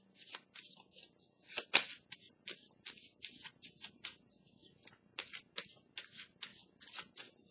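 Tarot cards shuffled and laid down by hand, a close, quiet series of quick papery riffles and slaps in uneven bursts, heard alone.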